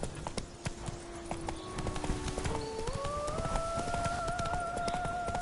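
Horse hooves clip-clopping at a steady gallop in The Witcher 3, a regular rhythm of sharp thuds with rising tonal hum from game music, no voice over the hooves.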